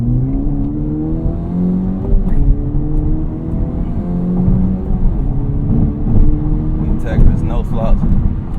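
An Acura Integra Type S accelerates hard to overtake slower cars, its engine note climbing through rising revs, dropping at a gear change and climbing again. The engine sounds close and loud throughout, with faint road noise underneath.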